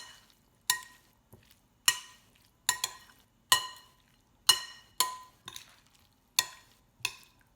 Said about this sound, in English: Into my meat filling, stir it up once again.